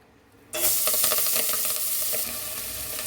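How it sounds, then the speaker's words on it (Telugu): Finely chopped ponnaganti leaves hit hot oil and burst into a loud, steady sizzle after a quiet moment, with a few stirring scrapes as the frying settles slightly toward the end. "ఇప్పుడు ఇందులోకి సన్నగా కట్ చేసి పెట్టుకున్న పొనగంటి కూరని వేసుకోవాలి"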